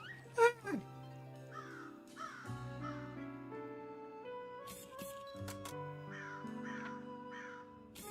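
A raven caws repeatedly in the Cappy Castaway video game trailer, with several harsh, rasping calls in short bursts set against steady background music.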